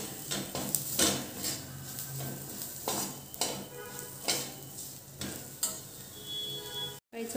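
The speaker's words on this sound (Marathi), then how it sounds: "तिखट पाहिजे त्या अंदाजानुसार तिखट, गरम मसाला, मसाले छान परतून घ्यायचे." Red chilli powder, garam masala and other spices are stirred and fried in a pan for a potato curry. A low sizzle runs under repeated clinks and scrapes of a spoon against the pan, with a brief drop to silence near the end.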